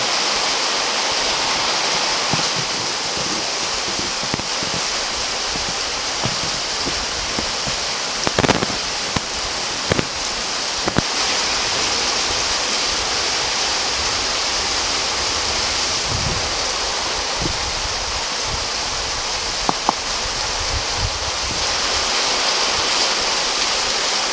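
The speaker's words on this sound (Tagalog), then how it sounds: "sobrang lakas ng ulan" Heavy rain pours down in a steady, dense roar that lasts throughout, with a few sharper knocks and drips standing out now and then, in Montalban, Philippines.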